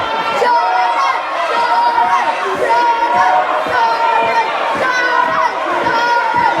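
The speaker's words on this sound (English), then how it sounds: "You can hear the crowd just getting on the back of Jordan Sparks." A large boxing crowd roars and shouts continuously at a fighter, a dense wash of many voices with whistles and jeers rising above the din.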